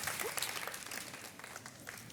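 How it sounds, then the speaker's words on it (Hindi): A studio audience on an Indian television quiz show keeps up sustained applause, a thick, even wash of many hands clapping that holds steady, moderately loud, with no voices standing out. "तालियां बजती रहनी चाहिए भाई"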